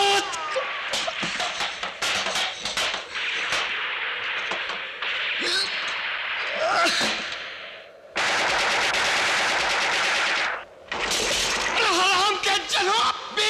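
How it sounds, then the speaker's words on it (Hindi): Bursts of rapid machine-gun fire crackle loudly, interspersed with single shots and shouting, ending in a long sustained volley. "20 के 20 एक आदमी पे गोली चलाते हो"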